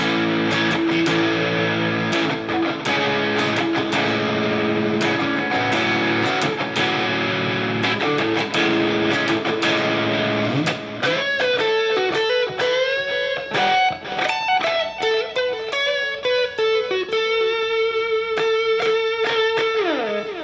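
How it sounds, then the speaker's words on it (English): Electric guitar with distortion played through a small built-in speaker while unplugged, first a dense sustained strummed wash of chords, then a series of sharp, choppy strummed hits with ringing notes, loud and alone throughout. "Now I can actually have some distortion."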